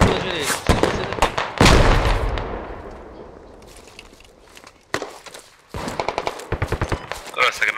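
Video game gunfire crackles in rapid bursts, a loud automatic volley early on, then a quieter stretch before more close shots and quick repeated bursts return, with voices talking in between.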